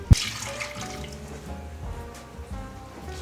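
Water running and dripping into a pot of fabric being prepared for madder dyeing, with a sharp splash at the start followed by a steady low trickle and faint drips, close by and alone without speech.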